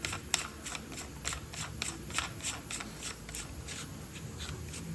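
Back cover being screwed onto a gauge for a 1958 Chevy LCF, a run of quick soft ratcheting clicks and scraping thread turns in steady rhythm, close up and quiet.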